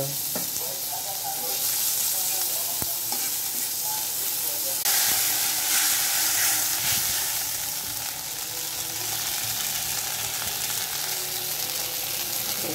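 Onions fry in a hot pan, a steady hissing sizzle that swells louder midway, with occasional faint utensil taps and no clear speech.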